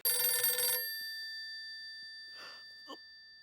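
A short burst of telephone ringing, loud and close, stops abruptly, followed by quiet with a couple of faint knocks or clicks.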